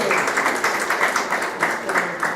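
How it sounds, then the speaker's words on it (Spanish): An audience at a finance conference applauds a speaker, a close, rhythmic burst of clapping with distinct pulses that carries on steadily for a couple of seconds, with faint voices beneath. "démosles un aplauso al maestro Guillermo"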